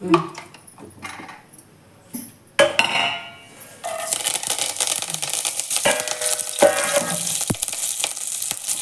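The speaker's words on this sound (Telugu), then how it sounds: "కొంచెం లైట్ కరేపాకు వేయించుకుంటాం" Curry leaves lightly frying in oil, starting with scattered clinks and scrapes of a utensil against the pan, then a loud crackling sizzle that builds and holds steady, close up.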